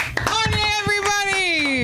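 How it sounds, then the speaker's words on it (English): An audience claps for comedian Sam at the close of an LA comedy show, a scattered patter of hands running through under a loud, sustained voice that stretches a long held tone. "clap it up for Sam"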